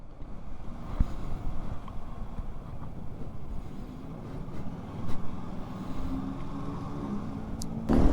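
A Yamaha Xmax 250 2025 scooter engine runs quietly while riding, a soft, steady low hum with wind noise and road rumble throughout, rising slightly near the end.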